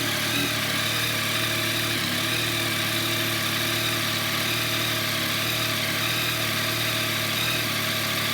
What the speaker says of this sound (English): The sound is somewhat between an inline 4 and a parallel twin, I think.